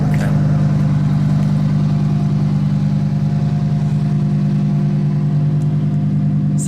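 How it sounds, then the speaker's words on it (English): A 2019 Lamborghini Huracan Performante with its stock exhaust idles, giving a steady, loud, low rumble that holds evenly throughout without revving. "this is a stock exhaust that I'm hearing"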